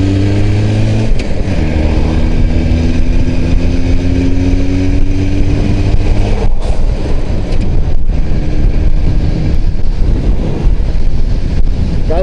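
A car driving along a sandy road at about 60 km/h, its engine droning steadily with shifting tonal hum and heavy wind buffeting the microphone throughout, loud and continuous.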